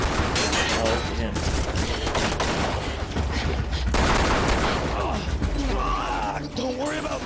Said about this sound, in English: Terrible way to shoot an AR.